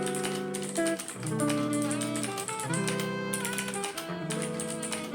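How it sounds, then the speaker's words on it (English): Quick clicky typing on a Cosmic Byte CBGK 25 mechanical keyboard fitted with Pandora Blue switches, a steady stream of close key taps that sit under loud backing music. "Now let's do a quick typing test to hear how the Pandora Blue switches sound."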